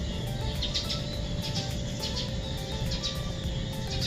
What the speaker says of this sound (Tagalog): Dami kang maririnig na ibon. Tsaka kung ano-anong humuhuni.